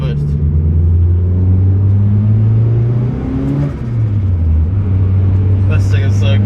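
Turbocharged Mitsubishi Lancer with a 4G93 SOHC engine and a slipping clutch accelerating under boost, loud sustained engine drone with rising and falling pitch as revs climb, dip and climb again, heard from inside the car.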